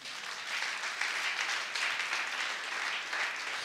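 A church congregation applauding God, a steady dense wash of clapping that holds at even loudness throughout without pause.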